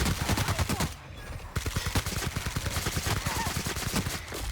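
Rapid automatic gunfire from a weapon in the video game The Outer Worlds, dense repeated shots rattling loudly, with a brief lull near the start before the burst resumes steadily.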